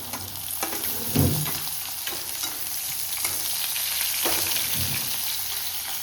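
Onion frying in a pan for a sprouted moth bean curry, with tomato about to go in: a loud, steady close sizzle with several scraping stirs and no voices.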